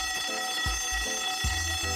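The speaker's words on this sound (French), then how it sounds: "C'est une alarme!" An alarm rings in Garry's Mod DarkRP, a steady electronic alarm-clock tone with rhythmic pulsing beeps repeating loudly over low thumps, no talk.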